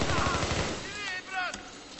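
Gunfire in a Battlefield 3 multiplayer squad deathmatch, with rapid shots and crackling bursts rippling through a busy battle mix, along with whistling, pitch-sliding effects, and one sharp crack near the end.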